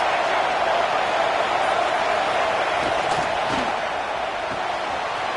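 Football stadium crowd roaring steadily for its defense in the red zone at a Notre Dame game, a dense, loud wall of cheering that holds throughout.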